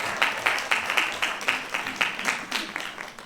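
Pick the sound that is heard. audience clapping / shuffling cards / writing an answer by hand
audience clapping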